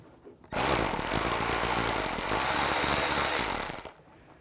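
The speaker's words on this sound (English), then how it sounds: "We're going to remove this screw, use a T30 socket." A power driver with a T30 socket backs a screw out of a 2009-2013 BMW 328i xDrive during headlight washer pump work: one close, continuous whirring burst of about three seconds, with quiet before and after.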